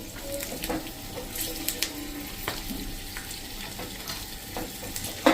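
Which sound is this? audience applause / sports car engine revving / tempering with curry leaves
tempering with curry leaves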